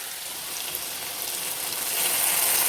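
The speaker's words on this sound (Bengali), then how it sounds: "দেখো মশলাটা দিয়ে দিয়েছি ভালো করে এবার কষিয়ে নেবো" Ground spice paste sizzles steadily in hot oil for a vegetarian paneer curry, a dense close frying hiss that swells slightly louder toward the end, with no talking.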